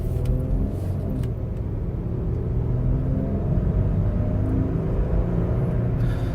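Interior rumble of a 2013 Mercedes with a seven-speed automatic cruising, a steady low engine and road drone under the cabin with no distinct shift points.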